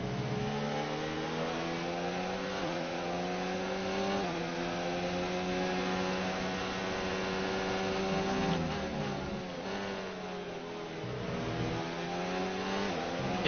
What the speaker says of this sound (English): gonna turn up the engine again just for the final now part of the race